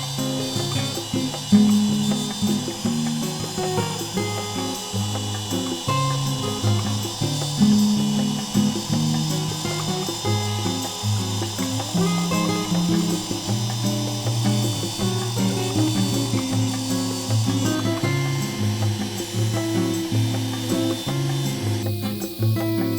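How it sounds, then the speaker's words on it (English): Router fitted with a 1/4 inch bit cutting inlay grooves into wood for a pool stick stand, a steady high motor whine that holds for the whole stretch, shifting slightly as it moves along the cut. "set my router on there. I've got a 1/4 inch bit in there"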